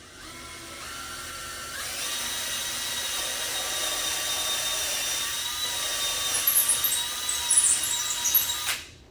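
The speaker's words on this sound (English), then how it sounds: "hold that drill bit as perpendicular to the wood as you can" A drill whines steadily for several seconds at close range boring into cabinet wood, its pitch holding high and even, with a slight rise and rattle near the end before stopping.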